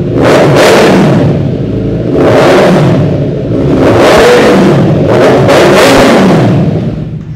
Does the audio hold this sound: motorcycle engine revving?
yes